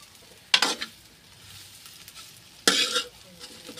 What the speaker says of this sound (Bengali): দেখেন চলতেছে ডিম ভাজি আমাদের।